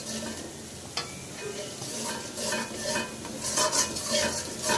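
A spice masala being sautéed in a large wok for a Bengali dish of pangas fish head with Malabar spinach, with steady stirring, scraping of a utensil against the pan and light sizzling throughout, a few louder clinks near the end.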